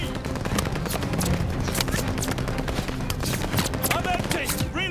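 Machine gun fire in a Call of Duty Vanguard battle, rapid overlapping bursts of shots crackling steadily through the scene, with shouted voices mixed in.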